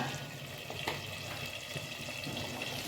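Tomato thecha with cumin frying in a pan on a gas stove, a dense steady sizzle with faint stirring ticks and no talking.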